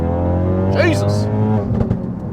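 A Ford Focus RS engine revs and pulls hard while driving on the road, a steady loud drone with rising pitch sweeps, heard from inside the car with someone talking over it.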